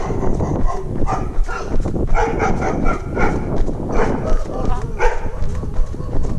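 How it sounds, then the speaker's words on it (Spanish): Dogs bark on a rural property during a hillside walk, with a series of short barks spread through the clip, mixed with heavy wind or handling noise and a person talking nearby. "aquí te saludan los perros"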